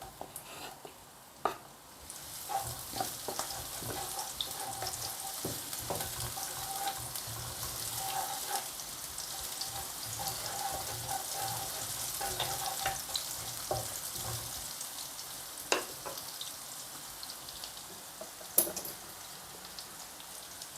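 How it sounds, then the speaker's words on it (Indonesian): Garlic and shallots sizzle in hot oil in a pan for a stir-fried blood clam dish. The frying hiss is steady and continuous, with occasional light clicks of a utensil. "Setelah minyak panas, kita bisa masukkan bawang putih dan bawang merahnya terlebih dahulu ya."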